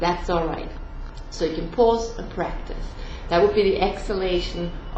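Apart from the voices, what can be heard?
No distinct noise like a dog, phone or traffic.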